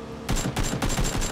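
Rapid bursts of gunfire in PUBG, four or five sharp loud shots in quick succession, close and punchy with no talking over them.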